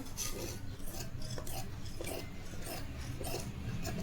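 Scissors cut through kosa fabric for a blouse sleeve in steady, close rasping snips that repeat rhythmically and stand alone without talk.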